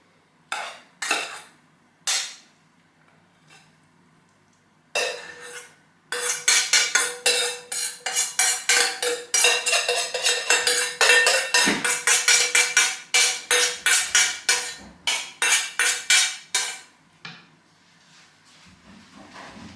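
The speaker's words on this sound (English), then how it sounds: "Just give it a good mix, the rice and the meat mixture" Cooked rice and a cooled meat mixture for stuffed peppers are mixed in a metal pot, with a spoon clanking and scraping in quick, loud, rhythmic strokes after a few separate knocks, then slowing to a stop.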